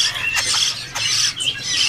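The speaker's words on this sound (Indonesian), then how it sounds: "Di kios ini ada burung foxai jambul ya." A Sumatran crested foxai bird at a bird kiosk lets out repeated harsh, close squawks in short bursts, with brief pauses between calls.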